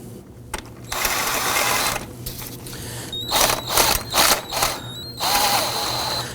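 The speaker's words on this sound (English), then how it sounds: "let's go ahead and tighten the adjuster a bit" Tightening the belt tensioner adjuster on a 2005-2009 Subaru Legacy 2.5L engine: a series of close, loud ratchet clicks in several bursts, with short pauses between turns and no talking.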